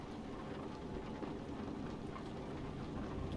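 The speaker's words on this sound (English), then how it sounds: "Got thunder and lightning on my game again" A steady hiss of heavy rain washes over a truck cab in Euro Truck Simulator 2, with a constant low rumble underneath and no distinct thunder crack standing out.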